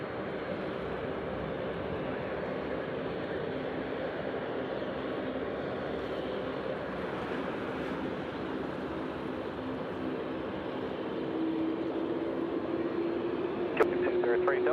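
A large jet at Sydney Airport on runway 34 left gives a steady, broad engine roar that holds throughout and swells toward the end, with a brief sharp click near the close.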